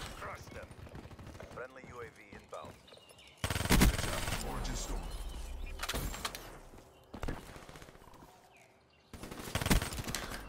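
Bursts of automatic gunfire from the video game Black Ops 3 rattle out in loud clustered volleys separated by quieter stretches of game sound and faint background chatter.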